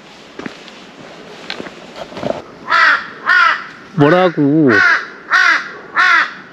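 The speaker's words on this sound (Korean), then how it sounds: "까마귀도 우리 보러 힘내라고." A crow at a beach caws six times in a steady rhythm: loud, close and rasping. The calls follow brief talking and footsteps.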